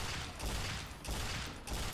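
Video game gunfire fills the whole moment as a dense, loud barrage of rapid shots, with several bursts running together and no voices.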